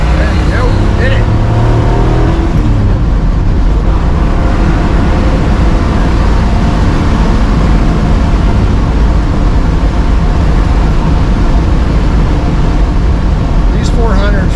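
A 1966 Oldsmobile 4-4-2 Track Pack with a tri-carb 400 V8 roars steadily under acceleration, loud and close throughout, with cabin drone and voices talking over it.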